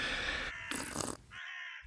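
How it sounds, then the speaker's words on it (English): Crows cawing outdoors on a lawn, a few harsh caws in quick succession, clear and fairly close, with brief gaps between calls. "All these crows out here on the lawn?"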